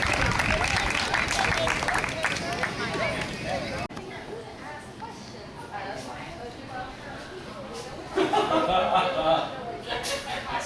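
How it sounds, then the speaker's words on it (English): An audience at a ToonFest 2014 event applauding and cheering, with crowd noise and voices mixed in, swelling louder toward the end. "Please, a big round of applause"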